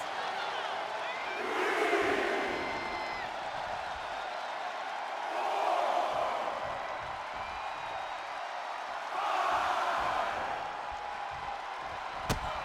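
Virtual arena crowd in the WWE 2K25 wrestling video game swells into cheers three times, at regular intervals, over a steady background roar.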